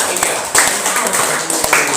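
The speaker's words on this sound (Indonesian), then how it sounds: "Oke, berikan tepuk tangan untuk kelompok 3." An audience in a classroom claps for a student group after their presentation, a brief burst of scattered hand claps mixed with room noise.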